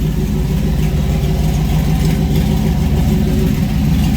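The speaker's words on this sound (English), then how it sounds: "We got the truck idling, running, transmission's full," A Chevy C10 truck with a swapped stock LS 5.3-liter V8 running a 6-liter cam idles steadily, a close, loud, even low rumble with no voices over it.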